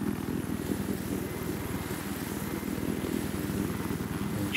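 Helicopter in Battlefield 3 on the Damavand Peak map: a steady, loud rotor chop and engine drone with a rhythmic pulsing beat, continuous and alone with no talk.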